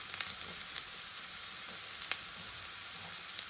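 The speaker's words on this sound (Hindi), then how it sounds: "ये अदरक लहसुन का पेस्ट हम लोग इसके अंदर ऐड कर देंगे और 2-3 मिनट के लिए इसको भूनेंगे" Ginger-garlic paste fries with softened onions in a pan, giving a soft, continuous sizzle with a few faint stirring clicks and no talk.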